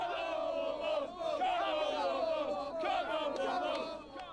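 A football crowd of almost 5,000 chants loudly and continuously at an FA Cup fourth qualifying round match between Exeter and AFC Wimbledon in 2006, with massed voices swelling and dipping in a steady rhythm.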